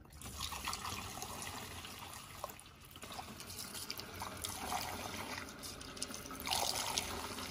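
Gasoline pours into a tank during a tune-up, a soft, steady trickle and gurgle of liquid heard up close at low volume, without speech.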